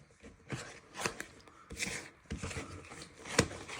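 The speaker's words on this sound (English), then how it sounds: "So you want to give this a good stir." Yellow cake batter with eggs being stirred in a bowl, heard as a series of soft scraping and tapping strokes at an uneven pace, close and fairly quiet.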